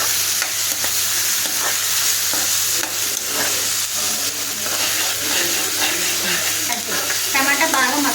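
Tomatoes added to a frying mushroom curry and stirred in a pan, with a loud continuous sizzle and steady scraping stirs close by.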